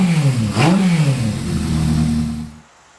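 A Honda CB550 motorcycle engine from a home build fires up for its first start, revving up and down with a rising then settling roar, close and loud, before cutting off abruptly near the end.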